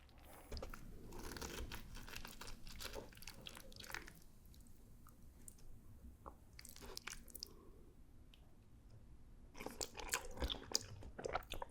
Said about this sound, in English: I'll just have to wait a second to try a bite.